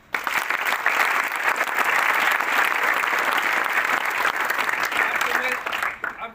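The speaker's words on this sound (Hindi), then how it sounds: "तालियां बजाओ इसके लिए" Students at a Sainik school gathering break into dense, sustained applause that fills the room for about six seconds before tapering off at the end.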